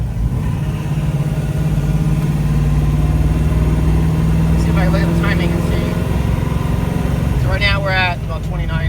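A 572 big block Camaro idling rough and loud up close, a deep steady engine rumble with uneven pulsing throughout, while people talk over it.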